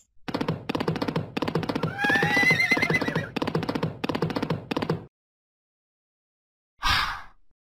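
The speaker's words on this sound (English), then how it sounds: "Horses" A horse neighs in a long, rhythmic whinny with snorting pulses, followed by a pause and then one short, breathy snort.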